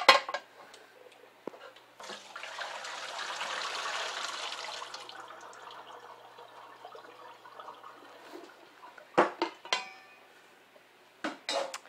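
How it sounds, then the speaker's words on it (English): Boiled potatoes are drained from a pot: a metallic clank opens, then a rushing pour of water that fades to trickles, with sharp pot clatters near the end. "So I'm going to drain the potatoes."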